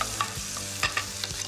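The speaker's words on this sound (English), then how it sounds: "I want that bacon to get really nice and crispy" Bacon frying in olive oil for sliders, with a low steady sizzle broken by a few sharp scraping stir clicks from a spoon against the pan, heard close.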